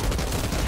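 Blind-fire gunshots in the video game Outriders, a dense, steady burst of rapid shots filling a brief moment without pause.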